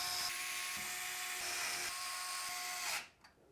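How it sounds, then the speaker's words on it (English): A small electric screwdriver whirs steadily for about three seconds, driving screws that fix an MSI Project Zero motherboard into a Thermaltake Ceres 330 TG ARGB case, then stops abruptly. "we can secure the motherboard to the case using 9 of the screws with a little lip around the outside"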